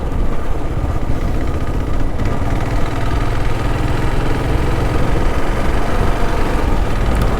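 A vehicle engine idling right after the choke is switched off, a steady close low rumble with faint vibration and no pauses.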